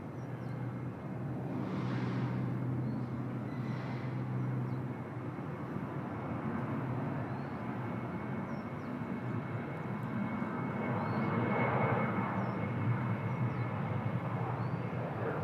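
An Austrian Airlines Boeing 777 arriving from Vienna lands at Bangkok, heard as a broad, steady jet roar from a distance that swells slightly toward the end, with no talking.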